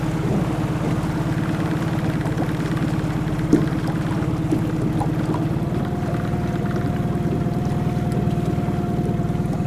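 An outboard motor runs at a steady drone with a constant low hum and a faint higher whine, unbroken for the whole stretch.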